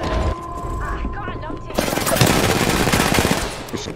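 Rapid automatic gunfire in a Star Wars shooter game, a dense sustained burst of blaster shots that swells louder midway and keeps hammering to the end, with mechanical clatter beneath.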